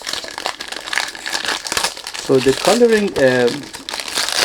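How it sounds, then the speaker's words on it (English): Packaging on a perfume box crinkles and rustles in close, irregular bursts during an unboxing, with a person talking over part of it. "Sorry about the noise when you do unboxing, you can't do anything about it."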